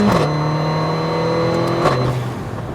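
A tuned Mercedes-AMG GLA45 with a large Weistec turbo accelerates hard, its engine note rising steadily with a tonal whine, then dropping at a gear change near the end; loud and close, no talk.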